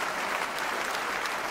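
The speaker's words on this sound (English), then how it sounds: "And a round of applause for Paddy" Studio audience applause for a comedy sketch performer, a steady dense clapping wash that fills the whole short stretch with no voices over it.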